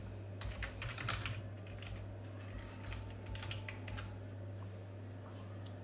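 Keys on a computer keyboard are typed in a quick, faint, irregular patter of light clicks over a steady low electrical hum, with no talking.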